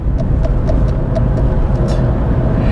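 Ford Focus bought cheap, pulling up a gentle incline in fourth gear: a steady, loud engine drone with low road rumble and tyre noise throughout, no voices.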